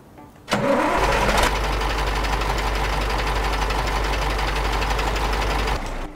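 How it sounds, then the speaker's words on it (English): A truck engine in Farming Simulator starts up with a sharp burst and then runs at a steady, loud, even drone, with no talk over it. "Ooh, nice engine sound."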